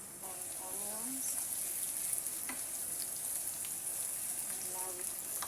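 Onions frying in oil in a pan for a mixed-meat pasta dish, a steady close hiss and crackle running throughout, with a voice speaking briefly over it.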